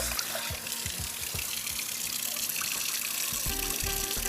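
Rice being washed under running water at a kitchen sink for a red curry fish dish: a steady, close gush of tap water with soft sloshing and swirling as the grains are rinsed.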